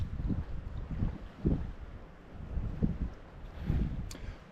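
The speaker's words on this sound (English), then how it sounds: "it is very windy" Strong wind on a remote island on Loch Ba, Rannoch Moor, buffeting the microphone in low, rumbling gusts that rise and fall several times, with no one speaking.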